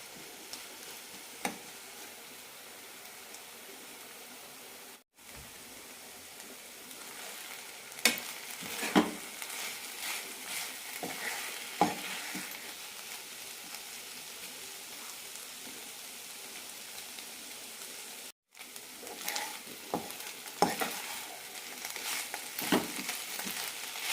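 Palakkad-style avial vegetables cook on a low flame in coconut oil. A soft, continuous sizzle is broken by frequent stirring scrapes and two brief cuts, and no one speaks.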